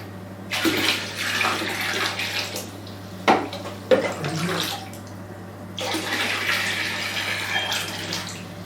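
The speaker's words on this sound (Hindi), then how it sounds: "एक बार फिर पानी डालेंगे" Water poured into a basin for a warm-water foot bath: splashing bursts of pouring in two main stretches, with a couple of sharper knocks and splashes between, fairly close, over a steady low hum.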